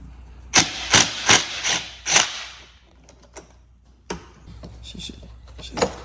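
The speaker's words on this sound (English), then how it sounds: "got that 10mm socket I told y'all about. Gotta get this battery up out of here." A 10mm socket and ratchet work loose a battery hold-down bolt on a Jeep auxiliary battery, giving a quick run of loud clicking ratchet strokes, then scattered softer metallic taps and clatter against low background hum.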